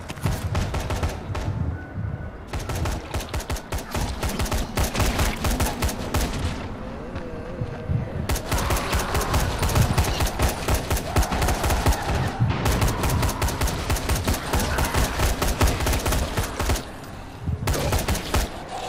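Rapid rifle fire crackles through a zombie-filled Dying Light firefight, two guns going off in dense, overlapping bursts that run almost nonstop with brief lulls, loud and close.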